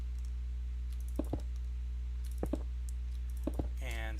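Mouse clicks placing half slabs while building a chicken farm in Minecraft, arriving as three close pairs of sharp clicks about a second apart over a steady low hum, with no talk.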